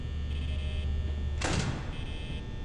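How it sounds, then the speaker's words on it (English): A door in the Five Nights at Freddy's video game shuts with one brief mechanical clunk midway, set against a low steady hum and a faint electronic tone. "Just for safe measures, close the door a little bit."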